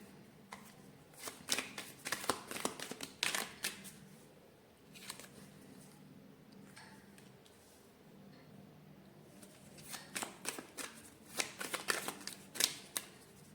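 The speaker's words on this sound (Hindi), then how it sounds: "क्लैरिफाई करने के लिए मैंने यहाँ दो कार्ड्स निकाले हैं" Tarot cards are shuffled close at hand in two quick riffling bursts of rapid card flicks, separated by a quieter pause of soft handling, faint overall with no talking.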